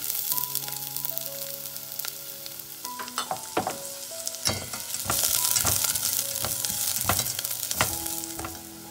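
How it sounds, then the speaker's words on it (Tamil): Onion and garlic sauté in a pan for drumstick leaf soup, a steady sizzle with scattered clinks and scrapes of a spoon stirring, growing busier midway; no voices. "வெங்காயம் ஓரளவுக்கு வதங்கிருச்சு"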